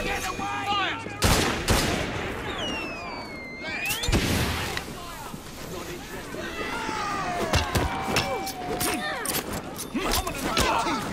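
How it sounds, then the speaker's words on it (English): A pistol volley in Assassin's Creed Syndicate: sharp, loud gunshots crack out in separate bursts over a busy street backdrop, with voices shouting in between. "Pistols at the ready! Fire!"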